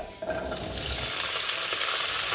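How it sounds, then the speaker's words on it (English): Steady, dense sizzling of beans frying in a pan, continuous and close with a bright crackling hiss throughout. "Fry this for another couple of minutes, let's say 3-4 minutes more"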